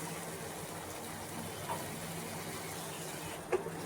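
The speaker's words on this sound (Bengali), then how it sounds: "এখানে দিয়ে দেব মশলা ধোয়া জলটা" Spice-rinse water is poured into a pan of tilapia fish curry, a soft steady gush of liquid running close by with a faint clink near the end, no voices.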